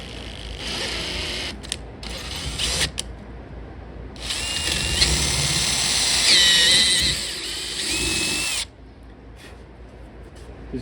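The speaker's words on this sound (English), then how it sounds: "now I just gotta drill them out one size up, or a couple sizes up rather" A handheld power drill bores out holes in homemade brass air vents for a 1.8T RWD Mini. The close, whining drilling comes in bursts of several seconds, with short pauses and clicks between them.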